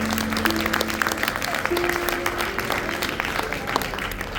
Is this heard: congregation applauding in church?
yes